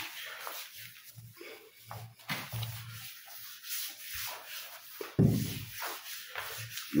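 A rubber tin is rubbed across the face of a plaster of Paris board cast on an HDF board, giving repeated close scraping and rubbing strokes in an uneven rhythm with short pauses between them.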